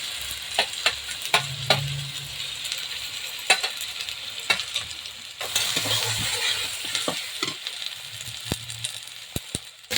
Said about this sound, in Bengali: দিয়ে দেবো একটু আদা বাটা